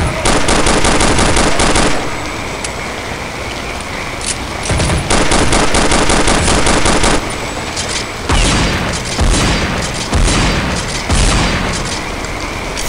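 Rapid, loud gunfire in Counter-Strike: Condition Zero Deleted Scenes, with a shotgun among the weapons. Dense bursts of shots run in long stretches, broken by brief pauses, and no voices are heard.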